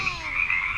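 A frog gives one brief, continuous croaking trill, steady and fairly loud, with nothing else audible.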